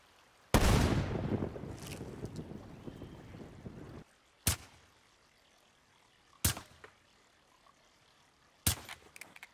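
Four suppressed P-06 sniper rifle shots in Black Ops 3: a loud first crack with a long rumbling tail, then three sharp, short, evenly spaced reports with quiet pauses between them.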